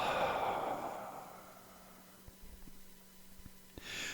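A long, slow breath exhaled close to the mic during a guided breathing exercise, fading over about a second and a half, followed by quiet faint clicks and a soft breath at the end.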